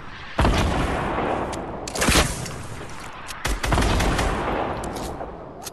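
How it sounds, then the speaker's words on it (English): A rocket launcher fired in the Fortnite video game, heard as loud, close blasts with booming impacts at intervals amid continuous rumbling gunfire and no talking. "I'm gonna shoot a rocket towards the one on the left"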